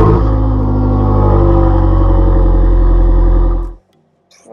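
The engine of a Fiat Abarth 595 Competizione booms loud and low from inside the moving car. The drone is steady and strong for nearly four seconds, then cuts out abruptly into near silence.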